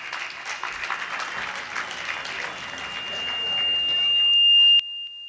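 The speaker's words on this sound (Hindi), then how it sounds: "जोरदार तालियों से सभी भाई और बहनों को सम्मानित करें" Loud audience applause honouring performers at a stage event, dense clapping rising to a sustained roar with a steady electronic tone, likely microphone feedback, ringing over it before an abrupt cutoff.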